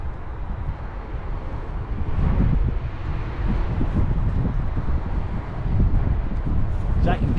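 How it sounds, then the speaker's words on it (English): Steady wind buffeting the microphone on a riverbank during a fishing session on the River Irwell, rising in louder gusts. "the wind was just about to blow my hooking mat away"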